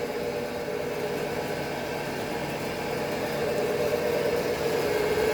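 Engineering shop machine running while grinding a cylinder head, a steady even whir with constant broadband hiss and mid-range hum, close and unchanging, no talking.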